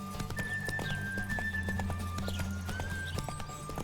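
Roach, the horse in the Witcher 3 video game, gallops with a steady rapid clip-clop of hooves over a low ambient hum, the rhythm continuous and fairly quiet.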